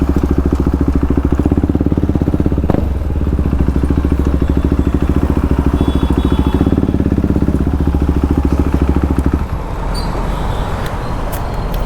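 A motorcycle fitted with a Yoshimura Japan full-system exhaust idles nearby, a loud, steady, throbbing engine rumble with quick regular pulses that softens slightly near the end.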